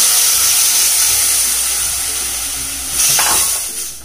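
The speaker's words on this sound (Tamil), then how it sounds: "இப்போ நம்ம கரைச்சி வச்சுருக்க புளி தண்ணியை அது கூட சேர்த்துடலாம்" Tamarind water for kuzhambu goes into a hot pan, setting off a broad, steady sizzle and hiss that swells briefly with a splashing burst near the end, close and fairly loud, with no talk.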